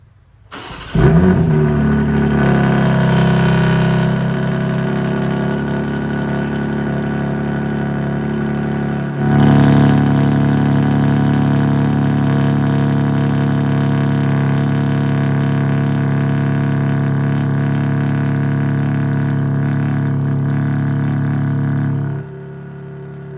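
A BMW G80 M3 Competition starts up with its exhaust valves fully open, settling into a loud, steady idle. There is a sharp rev blip midway, then a long rumbling idle before the engine cuts off. No voices.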